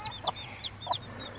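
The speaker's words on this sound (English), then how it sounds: "we got Mama and 3 chicks in there" A hen gives a few soft, quick clucks close by, with faint high peeps from chicks mixed in over a low background hum.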